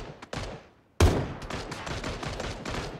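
Rapid bursts of gunfire in the battle royale shooter PUBG, a couple of sharp isolated shots followed by a sustained loud volley of close-range automatic fire.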